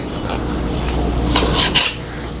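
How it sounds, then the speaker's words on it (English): Cookie dough is scooped with a large metal cookie scoop in a home kitchen, giving soft scraping and a few sharp clinks of metal against a bowl near the end, close and fairly loud. "Now I am using a large cookie scoop, ice cream scoop."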